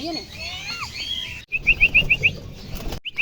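Birds chirp over background noise, then a quick run of bright, evenly spaced wing flutters is heard close by as a racing pigeon lands on the landing board during club training.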